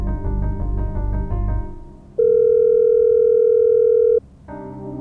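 A telephone dial tone plays while a call is placed at night, with a few short tone bursts, then a long steady tone for about two seconds, and another tone starting at the end.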